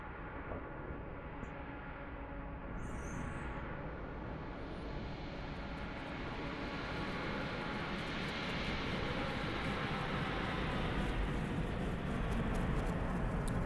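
An airliner takes off at Hong Kong airport in Microsoft Flight Simulator 2020, its engines roaring in a broad, steady rush that builds gradually in loudness, with no voices over it.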